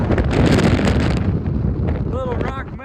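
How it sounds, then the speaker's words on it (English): Strong gusts roar across the microphone on Arapaho Pass in the mountains, loud and buffeting for most of the moment before easing, with a short voice-like sound near the end. "That wind's about enough to take you out."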